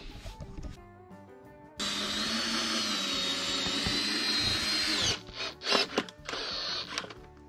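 A power drill-driver sinks screws during cabin building work. After a short lead-in, it gives a close, loud, steady whir with a high whine for about three seconds, then several brief stop-start bursts.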